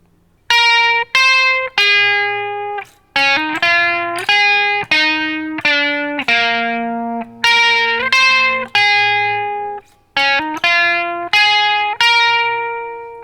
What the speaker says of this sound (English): the lead part during that whole bridge sounds like this